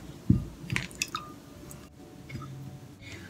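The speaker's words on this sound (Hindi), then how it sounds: "मसाज करने के बाद ठंडे पानी से इसको धो लें।" Cold water is splashed on a face to rinse off a cinnamon massage, giving a few scattered wet splashes and drips, louder at the start and softer later, with no talking.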